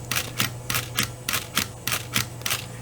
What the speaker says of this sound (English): and now I have continuous.